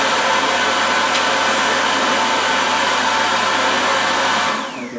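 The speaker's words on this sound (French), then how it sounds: "le bruit, hein, comme je vous ai dit, là, ça fait aspirateur" A Dyson DC63 Allergy bagless canister vacuum cleaner runs with a steady, loud, broadband whir that resembles a hair dryer, holding constant for several seconds before the motor cuts off and winds down at the end.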